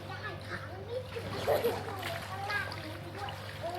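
Children swim and splash in water at a pool in Pattaya, light irregular splashes at moderate distance beneath children's voices and chatter.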